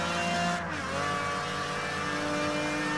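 Race car engine in Project Gotham Racing 3 revving hard, with a steady loud whine and a brief pitch dip as it shifts, then climbing again, close and continuous, with no voices.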